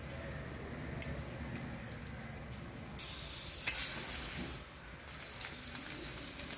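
Butter sizzling on a hot tawa while a parotta for Mexican chicken parotta is heated, a steady close hiss of frying with a few small clinks and a brief louder burst partway through.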